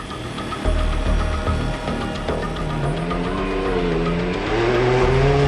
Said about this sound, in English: David Ziller drifting and skipping over the sandy sections